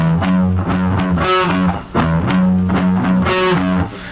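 A distorted electric guitar plays a riff, a loud, close, chugging pattern of repeated palm-driven notes in steady rhythm that loops twice with no talking.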